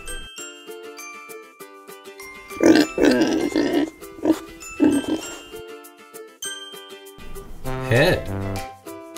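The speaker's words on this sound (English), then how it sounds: "Pig." A cartoon-style pig grunts in a bright children's counting song, a few short snorting grunts rising over jingly music and a narrating voice.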